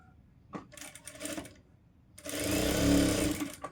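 A sewing machine stitching the shoulder joint of a blouse, first a few short stuttering runs, then a steady, louder continuous whir of needle strokes close by.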